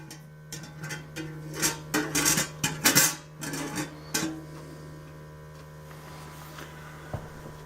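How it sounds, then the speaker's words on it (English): A lid is set back onto a container during a combustion gas measurement, giving a cluster of clattering clicks and knocks over a steady mains hum, followed by a quiet stretch and one last faint tap. "I'm going to go ahead now and put the lid back on."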